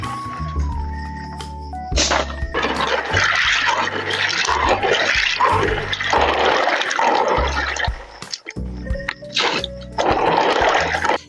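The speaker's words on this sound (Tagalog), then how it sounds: "Kaya naman huhugasan ko na nga ito ng ilang hugas hanggang sa luminaw ang tubig nito." Pili nuts being washed in water, with loud sloshing, rushing and splashing in bursts, short pauses between them, and a few hollow knocks.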